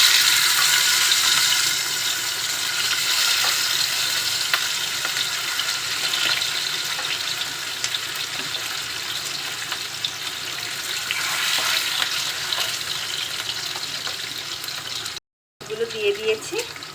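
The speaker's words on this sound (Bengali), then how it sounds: "তেলটা একটু গরম হলে দিয়ে দিব মাছগুলো আমি লবণ হলুদ মাখিয়ে রেখেছি।" Catla fish pieces rubbed with salt and turmeric fry in hot oil in a pan, giving a loud, steady, close sizzle that runs almost unbroken, with a brief drop near the end.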